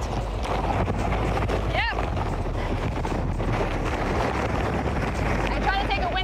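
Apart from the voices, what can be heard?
strong wind gust during Hurricane Michael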